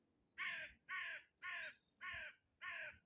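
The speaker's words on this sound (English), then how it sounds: "That bird's annoying, man." A crow caws five times in a steady rhythm, each harsh call loud and close, spaced about half a second apart with quiet gaps between.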